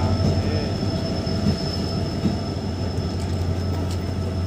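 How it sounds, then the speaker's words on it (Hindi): A long-distance passenger train on the Kathgodam to Jaisalmer route arrives at a station, a loud steady rumble with a low drone and faint metallic squeals throughout. "पे फाइनली हमारी ट्रेन आ चुकी है"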